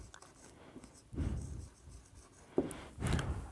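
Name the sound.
writing a word during a lecture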